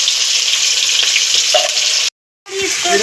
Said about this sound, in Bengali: পেঁয়াজ একটু ভাজা ভাজা হচ্ছে